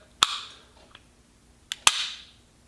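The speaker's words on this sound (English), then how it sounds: "it goes bang every single time" Sig Sauer M18 pistol firing at a shooting range: two sharp, loud shots about one and a half seconds apart, each with a short ringing decay, plus a faint click between.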